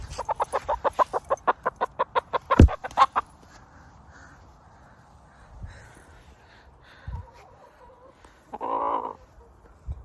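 A chicken clucks in a rapid run of sharp, repeated calls, then falls quieter with a few scattered clucks and soft rustling close by.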